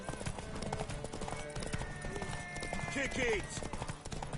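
Horse hooves pound in a galloping race in The Witcher 3, a steady fast clatter running under shouted voices and busy game noise throughout.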